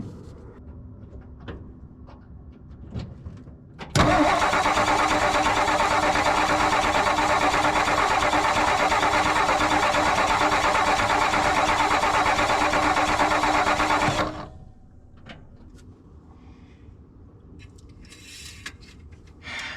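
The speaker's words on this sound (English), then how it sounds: "We're gonna crank it over again and see if we can get some pressure out of it now" The engine of a Ford F600 truck cranks over, a loud steady churning drone that starts abruptly, runs about ten seconds without catching, then cuts off to quiet workshop background.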